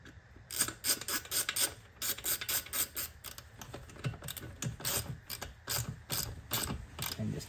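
A hand ratchet clicks rapidly in repeated bursts while threading swing arm spool bolts onto a Honda Grom motorcycle, close and crisp with short pauses between strokes.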